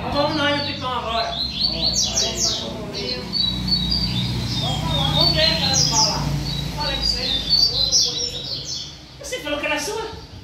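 A coleiro, the double-collared seedeater songbird, sings loud, close, rapid chirping phrases and trills almost without pause, with faint human voices underneath at times.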